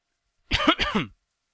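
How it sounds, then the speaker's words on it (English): A person coughs and clears their throat in two quick, close bursts, loud and near, followed by silence. "Sorry, more coughing."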